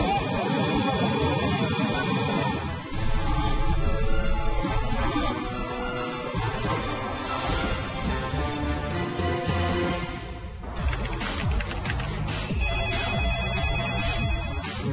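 Hospital emergency bell ringing as medical staff rush to a helipad, a continuous electronic ringing tone sounding loudly throughout amid busy room noise and talking voices.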